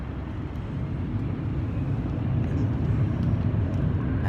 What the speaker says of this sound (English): One's landing and one's taking off.